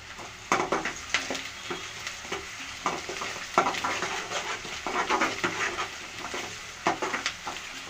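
Egg and capsicum stir-fry sizzling in a pan with dry curry leaves, a spoon scraping and stirring in repeated bursts over a steady close frying hiss, with no talk.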